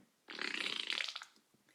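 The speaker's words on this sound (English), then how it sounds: "And then Walter farted." A long, buzzy fart sound of about a second plays close and clear with no talk over it, a comic effect for a dog breaking wind in a read-aloud children's picture book.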